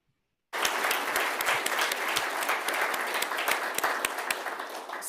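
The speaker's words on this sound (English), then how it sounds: "I wonder if you could share with me in a round of applause for Tom." After a brief silence, an audience bursts into sustained applause, dense and loud, continuing steadily to the end.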